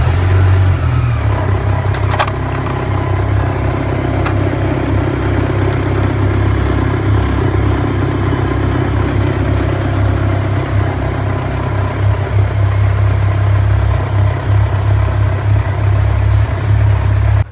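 A BMW K1600GTL touring motorcycle's six-cylinder engine runs at a steady idle, a loud, close, smooth low hum that holds constant throughout with only faint small ticks and no speech.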